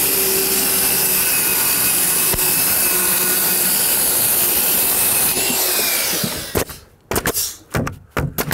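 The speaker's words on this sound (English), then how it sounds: "Make sure to set the depth of your blade relative to the material you're cutting." A circular saw cuts vinyl siding with a loud, continuous whine for about six seconds, then spins down, leaving a few scattered bumps and handling sounds.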